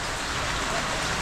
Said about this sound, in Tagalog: at umuulan na naman.